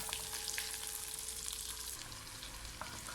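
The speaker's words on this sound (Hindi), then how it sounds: "इसमें हम अपना ये जो ड्राई फ्रूट है ये सारा हम ऐड करके हल्का सा फ्राई करेंगे।" Dry fruits frying lightly in hot oil with cloves and cardamom for sweet colored rice, giving a steady close sizzle and crackle with a few stirring scrapes, no voices.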